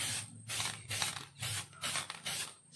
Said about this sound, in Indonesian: Saya akan semprot, langsung disemprot saja.